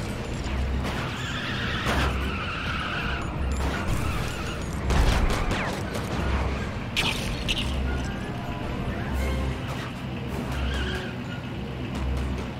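Car in the Lego Indiana Jones 2 video game driving at speed with turbo, with a steady engine drone, skidding tire squeals and clattering game effects running continuously through the scene.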